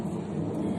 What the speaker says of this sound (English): And the rain picked up.